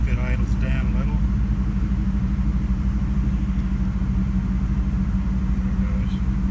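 LS1 V8 engine in a Camaro idling with a steady low rumble close by, with a check engine light on after knock sensor replacement; a voice talks briefly near the start.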